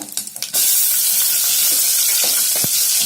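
Four green chillies dropped into hot ghee with crackling cumin seeds: a few sharp pops first, then a sudden loud, steady sizzle that fills the rest, close and without speech.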